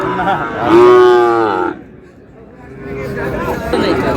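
A Sahiwal bull calf gives one loud, drawn-out moo close by at a cattle market, then quieter lowing follows amid background chatter.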